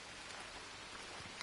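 Steady, dense rain hissing throughout the jungle survival game Green Hell, a constant wash of falling water with no voices.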